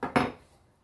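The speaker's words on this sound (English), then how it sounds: "Just do a cross section right across the middle of this ribeye." A knife cuts across the middle of a sous vide ribeye seared on a steel plate, giving a short scrape and then a sharp clink against the board, close and brief.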